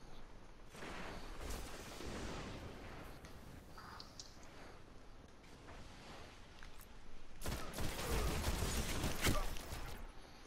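Gunfire in the video game Destiny during clan play, with scattered shots and bursts under a busy mix, growing louder and denser toward the end.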